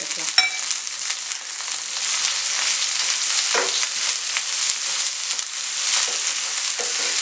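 Onion and green chillies sautéing in a hot pan, giving a loud, steady sizzling hiss with an occasional faint stir, and no talking.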